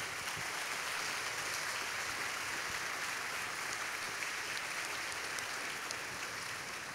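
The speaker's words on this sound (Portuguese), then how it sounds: "eu queria pedir uma salva de palmas" A crowd at the 2012 Paralympic awards ceremony claps continuously, a steady wash of applause with no voices standing out.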